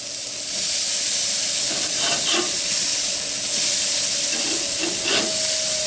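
Burgers sizzle loudly and steadily on a hot Masterbuilt griddle, a continuous hiss with a few brief scraping clatters as the patties are flipped.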